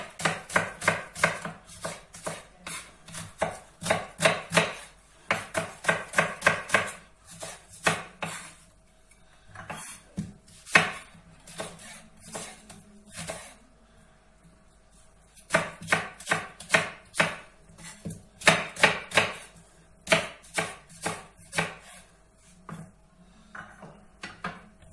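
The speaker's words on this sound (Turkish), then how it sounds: "Hemen 2 orta boy soğanımızı doğrayacağız." Two medium onions are chopped with a knife on a cutting board for a fried liver dish, giving rapid bursts of sharp, close knife taps separated by short pauses.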